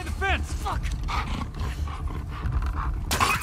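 A dog growls and barks in The Last of Us Part 2, rough snarls and yelps mixed with game sounds, while a player talks over it.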